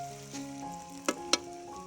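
Onions fry in hot oil for a Bihu party meal, giving a soft steady sizzle with two sharp crackling pops, under faint tonal background sound.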